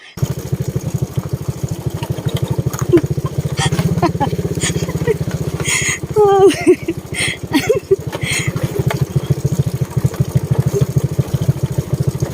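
A motorcycle engine runs steadily while riding over a rough, rocky road, its low, even drone holding for the whole stretch with brief louder surges and some knocks along the way.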